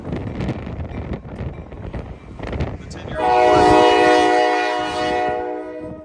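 Wind buffets the microphone, then a loud train horn blasts and holds for a few seconds, slowly fading, near Leestown Road in Lexington, Kentucky.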